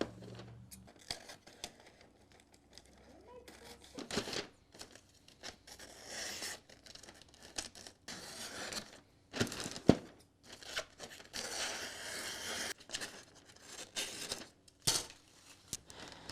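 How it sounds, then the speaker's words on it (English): Scissors trim the edges of gift wrap paper, giving close, quiet snips and crisp rustles of paper in irregular bursts, with crinkling while the sheet is handled. "I'm going to trim these edges up"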